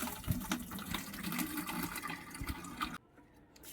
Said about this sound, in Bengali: এটাই করে জল ভরে নেবো,